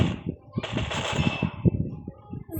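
Rapid automatic fire from a FAMAS rifle in a zombie survival video game, a dense continuous burst running for over a second amid other game sounds, with voices talking over it.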